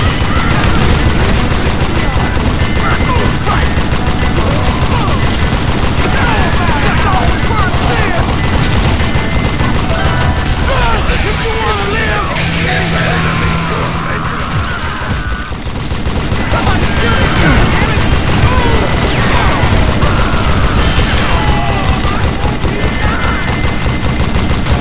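Sustained gunfire in Call of Juarez: Gunslinger, with dense overlapping shots and rapid bursts that pound almost without pause for the whole stretch, dipping briefly near the middle while faint voices sit underneath.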